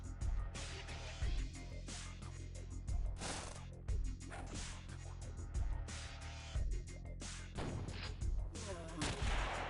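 Gunfire rings out in the tactical video game X-piratez as a series of heavy, booming shots at irregular intervals over a dense, rumbling game soundscape, with no voices.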